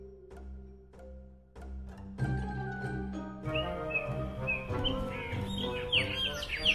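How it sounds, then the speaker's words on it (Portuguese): Evening birdsong in the cold highlands of Urupema, Brazil, heralding a flock of red-spectacled parrots: chirps and calls layer over a steady tonal bed that swells midway into a busier, shriller chorus of many birds, with no talk. "À tardezinha, a sinfonia dos pássaros anuncia a estridente revoada do papagaio charão."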